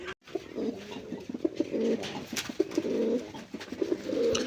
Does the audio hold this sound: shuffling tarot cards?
no